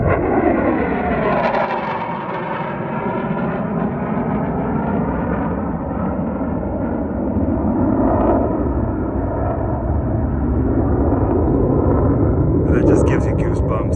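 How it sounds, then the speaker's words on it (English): Low-flying military aircraft passing over the desert near Area 51, a loud, sustained roar with shifting engine tones that swells and holds throughout, with a brief rise near the end. "Remember, low flying aircraft."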